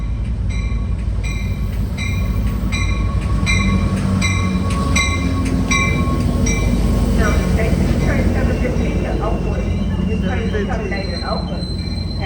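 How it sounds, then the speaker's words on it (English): Amtrak San Joaquin train 715 pulls into Emeryville station in California, with rhythmic clicking wheels giving way to squealing brakes as it slows, heard close under steady rumble; a voice speaks faintly. "here comes Amtrak San Joaquin bound train 715"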